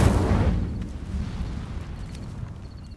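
A fiery burst from the Incendio spell in Hogwarts Legacy, a loud whooshing blast at the start that fades into a low rumbling tail.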